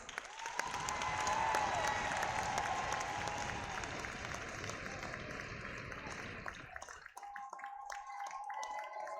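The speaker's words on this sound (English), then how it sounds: "Now let's give him a big round of applause." Audience applause fills a hockey arena during a pregame award ceremony, swelling quickly into a dense, sustained roar of clapping that tapers off after several seconds, leaving faint crowd murmur.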